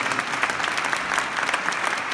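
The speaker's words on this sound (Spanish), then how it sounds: "fuerte aplauso, por favor," Sustained audience applause for a soprano soloist at a choir and orchestra concert, a dense, even patter of clapping throughout with no voices over it.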